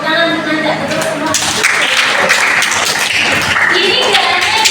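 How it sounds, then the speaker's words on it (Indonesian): Classroom applause for a student named Nanda: dense, steady clapping from many pupils at close range, filling the whole stretch at an even level with voices mixed in. "tepuk tangan untuk Nanda, betul semua"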